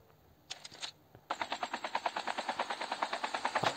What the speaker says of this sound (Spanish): Le he quitado media vida al helicóptero